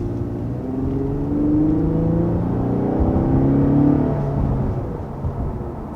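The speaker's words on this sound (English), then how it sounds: "I really like the sound of the engine. This V6, it always has like a nice throaty sound" 3.5-liter V6 of a 2021 Lexus IS 350 F-Sport sedan, a steady throaty hum that swells gently and eases off again, heard from inside the car with no talking.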